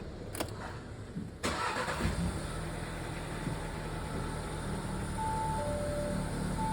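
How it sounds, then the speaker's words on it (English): A click, then a car engine cranks and turns over, settling into a steady idle hum for several seconds. "Let's turn the car on."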